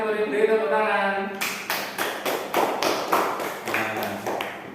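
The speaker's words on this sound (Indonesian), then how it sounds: "beri tepuk tangan" After a brief voice, a classroom of students claps together in a slow, uneven rhythm of distinct group claps, close and fairly loud.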